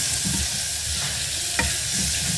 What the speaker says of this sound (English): we've just got the onions, the bacon, the rosemary just going to start cooking in there